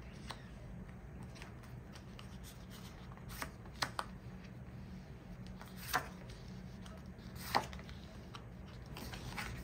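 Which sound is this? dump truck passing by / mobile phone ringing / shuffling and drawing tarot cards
shuffling and drawing tarot cards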